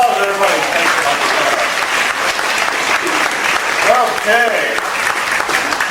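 A radio show studio audience gives loud, sustained applause after a card trick, continuous clapping with a voice speaking briefly over it.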